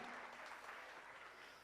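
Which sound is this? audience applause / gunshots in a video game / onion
audience applause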